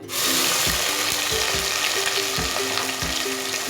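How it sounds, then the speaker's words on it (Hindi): Steady loud sizzling of onions frying in a hot pan for aloo gobhi, with a spatula scraping and stirring at a regular pace throughout. "अब मैं इसमें प्याज शामिल करूँगी,"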